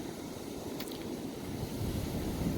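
Ocean waves washing onto a Gulf Coast beach, a continuous low rumbling surf mixed with wind buffeting the microphone, steady and fairly near, no talking.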